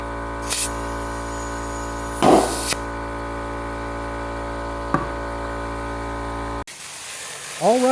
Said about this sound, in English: And we'll shoot some air to it.